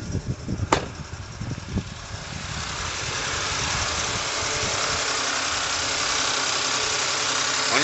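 Porsche Cayenne SUV engine idling with a misfire, running on a missing cylinder: a steady close rumble with an uneven, lumpy beat, a couple of sharp knocks near the start, and no talking over it.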